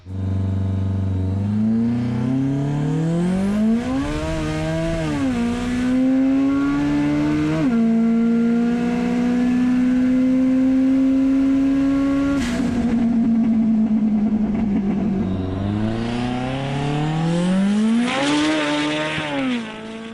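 Subaru WRX with automatic transmission on a runway drag run, engine revving up through several gear changes in a loud sustained climb, then easing off and building again near the end.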